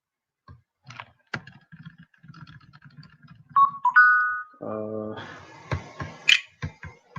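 Keys clatter on a computer keyboard in short, uneven bursts of close, light clicks, with a few sharper taps and other soft sounds mixed in.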